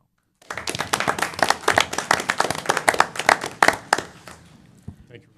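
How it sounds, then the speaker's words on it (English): A room full of people breaks into a round of applause at a development corporation board meeting, dense clapping building and holding for several seconds before tapering off, close and lively. "We owe him a round of applause"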